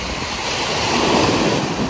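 Ocean surf at a beach washes in a loud, steady roar that swells slightly, mixed with wind buffeting the microphone.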